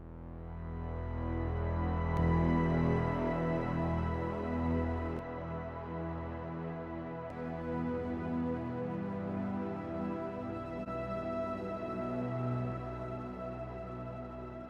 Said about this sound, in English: Freeamp, and this is more saturation